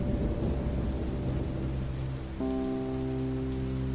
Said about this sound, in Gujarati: પણ આ શું, અચાનક વરસાદ પડવા લાગ્યો.